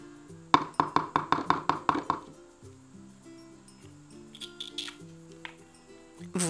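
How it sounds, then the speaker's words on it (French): An egg cracked into a mixing bowl during a toy play-kitchen chocolate cookie recipe: a rapid run of about ten sharp taps, then softer clinks and knocks, with no voices. "On va casser l'œuf dans le bol."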